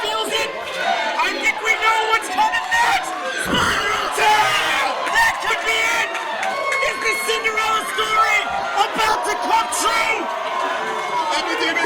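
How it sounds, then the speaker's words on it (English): A crowd at a live wrestling show roars and cheers in a dense, continuous wall of noise, with yells and whoops rising above it while a commentator talks over the din. "And the crowd feels it."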